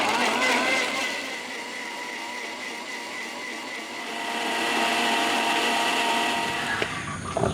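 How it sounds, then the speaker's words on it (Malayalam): A household mixer grinder blending juice with milk whirs loudly and steadily at high speed, its pitch wavering slightly before it stops near the end. "ഇത് നമ്മുടെ വീട്ടിലത്തെ മിക്സി എടുത്തോണം കേട്ടാ"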